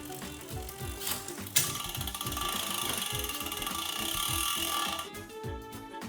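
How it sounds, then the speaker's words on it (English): A carbon road bike's crank arm is turned while a Shimano Di2 electronic drivetrain shifts gears, giving a close, rapid ratcheting freewheel tick with a steadier whirring mechanical shift stretch in the middle. "a prompt will appear to rotate the crank arm."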